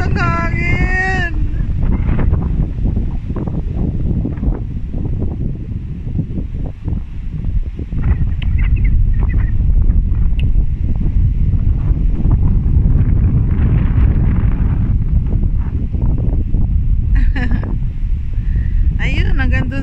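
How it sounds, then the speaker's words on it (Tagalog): Strong wind buffets the microphone on an open frozen lake where people are ice fishing, a steady roaring rumble throughout with people talking over it. "Ay, lakas ng hangin."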